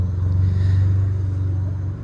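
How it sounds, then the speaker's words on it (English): A lawnmower engine runs nearby as a loud, steady low drone that holds for a couple of seconds and then begins to fade. "Well, there goes the lawnmower."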